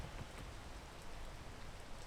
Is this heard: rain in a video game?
yes